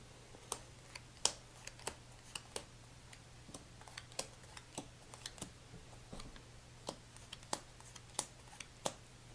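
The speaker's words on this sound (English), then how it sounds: "you will take the deck of train car cards, shuffle it" Ticket to Ride train car cards are shuffled by hand, producing soft, irregular riffling flicks and taps, faint and close over a low steady hum.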